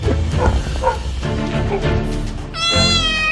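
A street cat meows loudly and repeatedly up close, ending in a long, drawn-out, higher-pitched meow.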